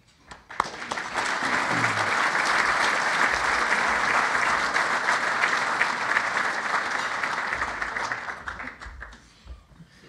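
An audience at a men's pro-life breakfast gives Roland Warren a sustained round of applause. It builds quickly to a steady, dense roar of clapping and fades away near the end.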